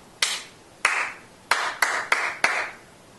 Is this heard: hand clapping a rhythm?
yes